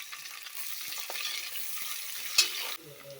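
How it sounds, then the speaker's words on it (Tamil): Broken cashews and chopped onion frying in a pan for mushroom biryani, a gentle continuous sizzle with a few light stirring taps and a brief sharp clink near the end. "உடச்சி வச்ச முந்திரி, கட் பண்ணி வச்ச வெங்காயம் இதெல்லாம் சேர்த்துட்டு நல்லா ஃப்ரை பண்ணிக்கலாங்க"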